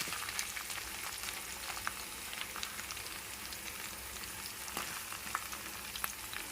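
Ginger frying in a pan for vegetable fried rice gives a steady, dense crackle and sizzle with scattered sharp pops throughout, close by and with no talk.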